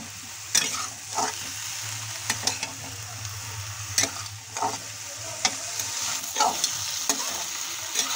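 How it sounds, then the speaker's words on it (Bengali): Eggplant, potatoes and spices sizzle steadily in a frying pan while a spatula scrapes and clinks against the metal in repeated strokes, close up, with no talk. "মশলা আলুর সঙ্গে ভালোভাবে মিলিয়ে নেব বেগুনগুলো"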